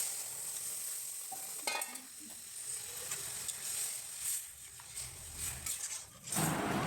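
Chana dal being stirred with spices and sugar in a pan, a steady scraping and gentle sizzling that keeps up throughout, with a few louder clatters of the spoon against the pan near the end.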